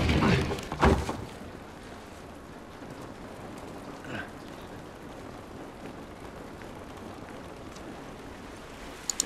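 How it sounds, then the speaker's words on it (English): Steady rain hisses softly and evenly in The Last of Us, with a few louder knocks at the start and a faint thump midway. "This rain ain't gonna do us any good."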